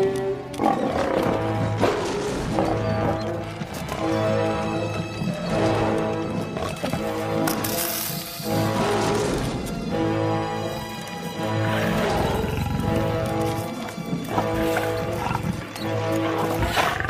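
Lions roaring in a lions' den, with deep, loud roars repeating throughout over a dense, continuous background.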